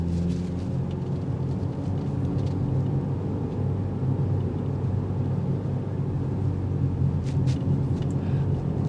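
Steady low engine drone inside a 2025 Mini Countryman S All4 with twin-scroll turbo under acceleration, smooth continuous rumble heard from the cabin with no talking.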